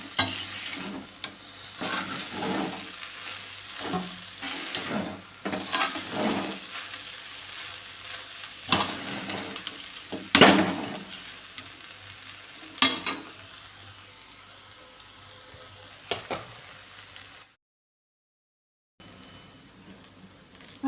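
Lemon juice stirred into rice for lemon pulihora, with scraping spoon strokes and a soft sizzle in repeated bursts, close by, ending in a brief silence.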